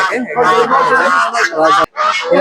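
Ducks and chickens at a Saturday poultry market in Savar, with loud, close, overlapping honking quacks and clucks in a continuous busy chorus, with a brief pause near the end.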